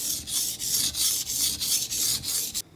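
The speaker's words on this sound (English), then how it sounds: "I've given the blade 50 strokes on a 400 grit whetstone" A knife blade drawn across a 400 grit whetstone in steady back-and-forth strokes, about eight close, rhythmic rasping passes ending abruptly.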